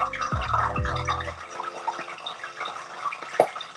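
A small splash of water hits hot frying oil in a home kitchen, set aside for gluten-free chicken parmesan, and bursts into a loud crackling sizzle that quickly settles into lighter popping.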